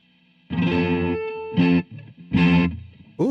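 An Arturia MiniLab keyboard playing a hippie preset in Reason produces warm, chorused, slightly distorted synth chords in three sustained stabs, loud and close with short gaps between them.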